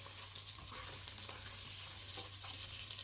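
Fish and carrots fry in a pan with a steady, dense crackling sizzle throughout, faint and even, with a little stirring and no voices.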